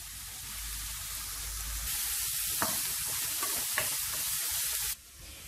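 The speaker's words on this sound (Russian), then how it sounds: "Высыпаем сюда грибы-шампиньоны и обжариваем до золотистого цвета." Button mushrooms fry in vegetable oil in a pan, giving a steady, close sizzle with occasional stirring scrapes and no talk.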